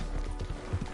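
Horse hooves clatter in a quick, close run in the video game Red Dead Redemption Online, a rapid clip-clop over a dense background din.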